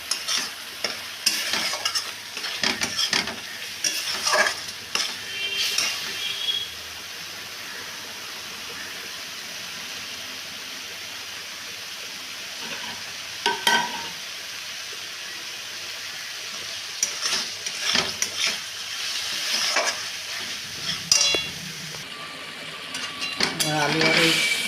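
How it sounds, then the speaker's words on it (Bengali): Spice masala with salt frying in a pan alongside potatoes, a continuous sizzle marked by repeated scraping stirs and clinks of a spoon against the pan, with occasional talk over it. "এটা মশলাটাকে একটু কষানোর পালা।"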